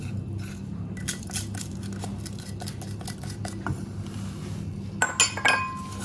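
A utensil stirs salt and granulated sugar into a mixture in a bowl, producing scattered light clinks and scrapes against the bowl over a low kitchen hum, with a brief flurry of sharper clinks near the end.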